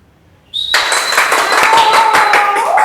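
Applause from a festival audience after a stage performance bursts in abruptly and continues as a loud, dense wash of clapping, with some voices in the crowd.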